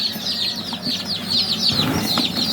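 A large first batch of chicks, 112 birds, peeps in a dense chorus of high chirps that overlap continuously, close and fairly loud, with a low hum underneath.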